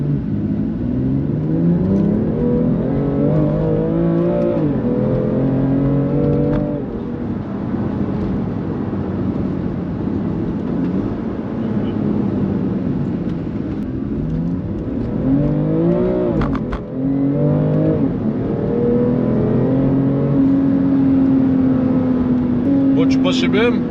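A BMW M2 Competition engine pulls hard for a long stretch, deep droning tone rising and falling through gear changes, loud and close with no pause.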